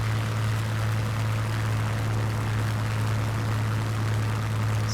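Propeller plane flying over Duxford in a flight simulator, a steady low engine drone with a strong constant hum and broadband wind rush, even and continuous with no voices.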